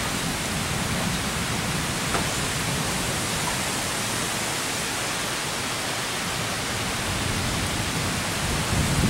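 Steady, dense rain pouring down continuously, a broad hissing wash with no voices or breaks.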